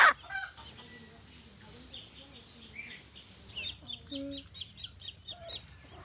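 Chickens cluck and squawk as one is caught for slaughter, agitated calls in quick bursts, fairly close, with a brief crow-like call and scuffling among farmyard fowl.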